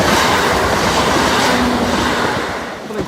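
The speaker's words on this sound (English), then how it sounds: "And second and final train approaching." A passenger train, unit 7508, rolls past at a station on the line into Lincoln Central, a loud steady rumble with wheel clatter and a brief tonal squeal, fading slightly near the end.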